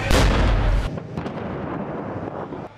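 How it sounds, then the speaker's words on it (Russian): An Akatsiya self-propelled howitzer fires at a building during street fighting in Jobar, Syria. One loud, deep artillery blast is followed by a long rumbling roll and echoing debris noise, with no voices. "Офицеры решают, что надо бить акации по зданию, откуда может быть удар по танкисту."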